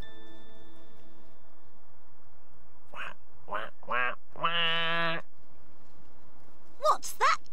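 A duck character in a 1996 children's television puppet show quacks, a few short nasal calls followed by a longer drawn-out quack, with a voice speaking briefly near the end.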